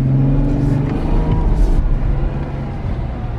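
A 2018 Jeep Wrangler Sport engine drones loud and close while driving through desert dunes, with a steady low roar that swells briefly as it revs, then settles.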